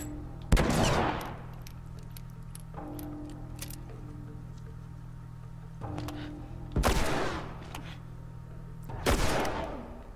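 Gunshots in the video game The Last of Us: three loud, widely spaced blasts, each with a long decaying tail, over a steady low game hum.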